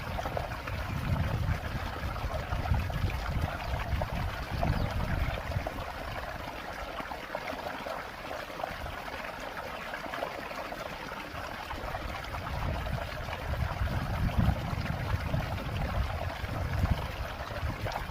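Liquid jeevamrutham mixture of desi cow dung, cow urine, gram flour, forest soil and jaggery pours steadily into a drum, a continuous splashing gush lasting the whole stretch with no voices.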